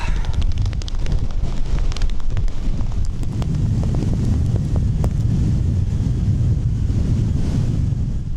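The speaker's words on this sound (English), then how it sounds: "the wind blowing snow in your eyes, it's getting past the glasses" Strong wind gusts across a snowy Scottish mountain summit in winter, roaring and buffeting the microphone in a constant loud rumble with faint rattling flecks throughout.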